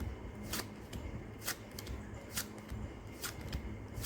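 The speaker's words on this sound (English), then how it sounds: "And this is to shuffle the cards up." Playing cards shuffled by hand a couple at a time for a self-working card trick, giving soft riffling bursts roughly every second, close and quiet with no talking.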